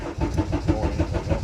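Car engine cranking over on a standalone aftermarket ECU, a steady rhythmic starter-motor churn with repeated low pulses, loud and close with no voices.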